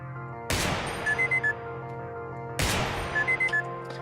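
Two heavy, sharp gunshots from a handgun in the shooter Receiver 2, each blast ringing out and decaying slowly, followed by a quick series of metallic mechanical clicks, with a long pause between the shots.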